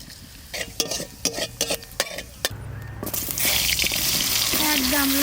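Several sharp knocks and taps give way to a loud, rushing sizzle as cumin seeds hit hot mustard oil for a tempering in a pan, swelling steadily and close, with faint kitchen sounds.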